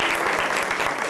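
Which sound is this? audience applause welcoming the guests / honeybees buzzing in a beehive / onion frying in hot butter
audience applause welcoming the guests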